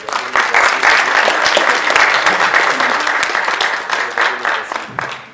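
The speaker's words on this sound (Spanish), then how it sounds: "Recibamos con un fuerte aplauso a este gran ponente del día de hoy." Audience at a forensic ballistics lecture at a university in Ecuador applauds to welcome the speaker, with dense, steady clapping for about five seconds that gradually tapers off.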